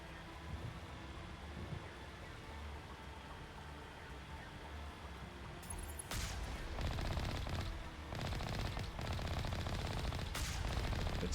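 Gunfire in the video game Mass Effect, fired from the Mako vehicle, starting as a low rumble and breaking into dense, loud rapid bursts around the six-second mark that continue steadily to the end.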